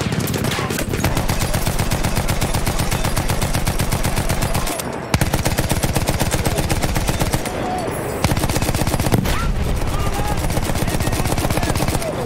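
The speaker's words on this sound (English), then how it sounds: "Alright, we're gonna jump on this gun right now." A mounted machine gun firing in the video game Battlefield 1, long continuous rapid-fire bursts, loud and close, broken by a couple of short pauses before the firing resumes.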